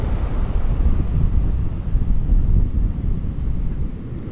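Atlantic ocean surf at Smith Point on Fire Island, a continuous low rushing wash of waves with heavy wind buffeting the microphone, no voices present.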